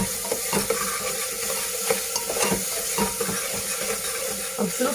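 Cabbage and peas sabzi being stirred in a hot pan, with a continuous close sizzle of frying and frequent soft scrapes and clicks of the spoon against the pan.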